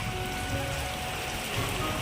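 Steady rain pours down, a dense, constant hiss of drops hitting surfaces close by.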